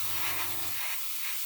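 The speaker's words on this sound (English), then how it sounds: "what we're doing now is we're spraying the paint on here onto the hairspray" An airbrush or spray gun hisses as paint is sprayed onto a hairspray-coated model, a close, steady airy spray with a low compressor-like hum that cuts out partway through, no voices.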